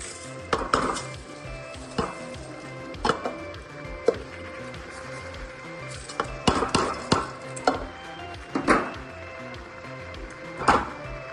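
Rice is tipped into a frying pan that already holds salt and stirred, giving irregular close scrapes and knocks of a utensil against the pan with a faint sizzle beneath.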